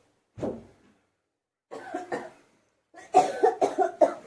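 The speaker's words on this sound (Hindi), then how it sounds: "देखिए तो खांसी भी हो गया है" Several bursts of coughing separated by pauses, the last a rapid string of four or five hacking coughs, close by.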